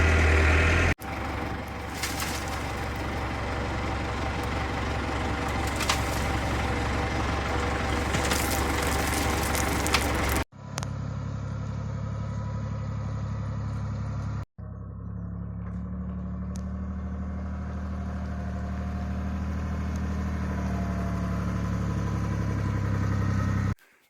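A dump truck and a tractor with a bucket work on a farm, moving gravel onto hard standing: a steady diesel engine drone and idle rumble, with abrupt cuts between shots and a lower, quieter engine hum later on.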